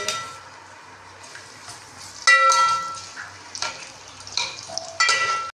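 Onions dropped into a hot pot for kadhi, frying with a steady low sizzle while a spoon clanks and scrapes against the metal pot in several sharp bursts.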